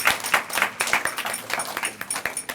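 Audience at a debate competition clapping for the team, a dense burst of many hands at moderate distance, steady through the moment with no talk over it.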